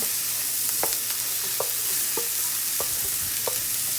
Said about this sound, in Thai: ตอนผัดใส่น้ำมันนิดเดียวจ้ะผัดหอมผัดกระเทียม